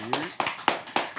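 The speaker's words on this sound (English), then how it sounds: "Clap it up for my boy Hip one time." Four quick claps ring out in an even rhythm, close and fairly faint, sounding like a small group clapping.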